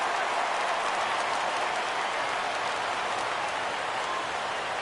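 Baseball stadium crowd at a Cubs–Cardinals game rising and cheering on a full 3-2 count, a steady, dense roar of voices and clapping that holds loud and unbroken throughout.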